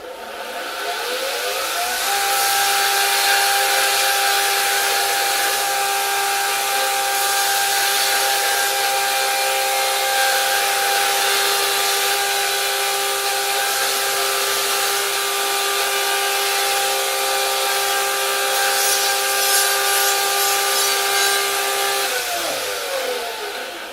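Forged metal pressed against a belt grinder, a loud continuous abrasive hiss with steady whining tones, starting and stopping as one sustained pass of about twenty seconds.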